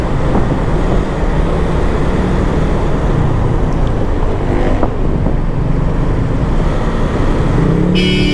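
A car horn sounds briefly near the end amid heavy EDSA traffic, heard from a motorcycle ride. A constant loud roar of road and engine noise fills the whole stretch.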